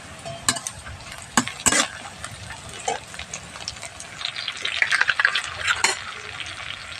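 Onions with chopped green chillies frying in a pan for a lote fish dish, a soft sizzle punctuated by irregular clattering scrapes of a spatula stirring, close and without talk.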